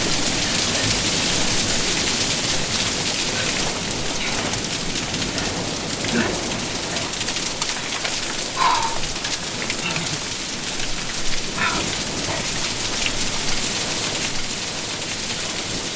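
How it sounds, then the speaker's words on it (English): Hail and heavy rain pound down during a desert storm in a steady, dense roar, with scattered louder impacts standing out and faint distant rumbling underneath. "It's hailing!"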